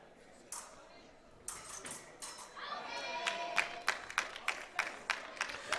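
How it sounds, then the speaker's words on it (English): Hong Kong team members cheer on their fencer at a wheelchair fencing World Cup women's epee team event, a run of sharp claps and shouts building into rhythmic, evenly spaced bursts against a hall murmur. "now you can hear the Hong Kong team really, you know, cheering her on"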